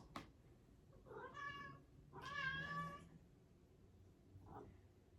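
A house cat meows twice in a drawn-out, wavering way indoors, fairly close, followed by a fainter short chirp, with no talking over it.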